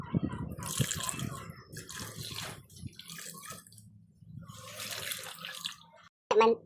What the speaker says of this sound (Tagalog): Nya, gamay lang nga tubig.